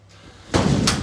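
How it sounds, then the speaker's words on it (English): A room door is shut, giving one loud, close slam with a broad thud and rattle that hangs briefly in the room. "So I'm just going to close this door."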